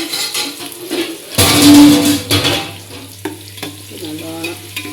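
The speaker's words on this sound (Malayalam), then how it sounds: "അരിഞ്ഞ് വെച്ച ഉള്ളി വെളിച്ചെണ്ണയിലിടും" Chopped onions hit hot coconut oil for chicken biryani, a loud burst of close sizzling and crackle that settles into steady frying with stirring, with some faint background clatter.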